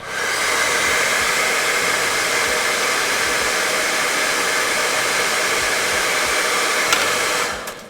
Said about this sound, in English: I'm going to give him another blast of hair dryer just to soften up the back plastic a bit.